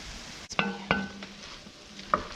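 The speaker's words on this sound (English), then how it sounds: "This meat is almost ready. It's browning." Hamburger meat browning in a pan gives a quiet, steady sizzle, broken by a few sharp clinks of a utensil against the pan.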